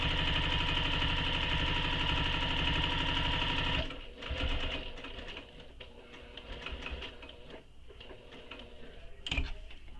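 A sewing machine stitches along a handbag handle in a long steady run, then stops. Quieter handling clicks and rustles follow, with no talking.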